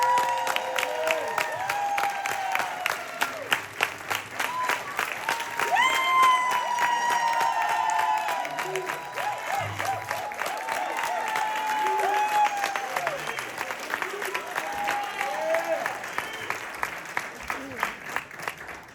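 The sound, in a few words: audience applause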